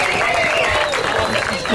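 Crowd applause rises at a live stand-up show at the Botley Hill Farmhouse, brief clapping mixed with cheering and whistles as voices talk over it.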